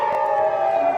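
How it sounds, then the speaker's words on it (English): An air raid siren wails in a steady sustained tone, loud and unbroken. "this is the second round of air raid sirens"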